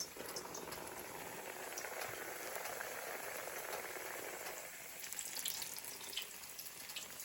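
Battered chicken frying in a cast iron skillet, a faint, steady, even sizzle that keeps on without a break.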